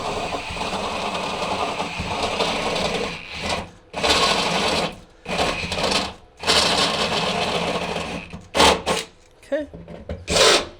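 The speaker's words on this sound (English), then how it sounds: "we're gonna open these up with a step bit" A step bit drills holes out to just over half an inch in the metal body of a VS30 Sprinter camper van, giving a steady grinding whir in long bursts that stop and restart with short pauses near the end.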